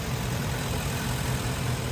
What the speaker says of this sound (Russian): Мотор тихо работает очень.